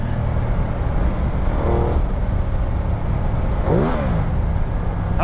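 A 2016 Ducati Multistrada 1200 motorcycle is ridden, its engine droning steadily and close with rising pitch sweeps as the rider accelerates.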